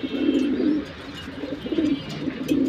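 Pigeons in a loft, including a nesting pair brooding eggs, coo in low, repeated rolling phrases, close and steady, with no talk over them.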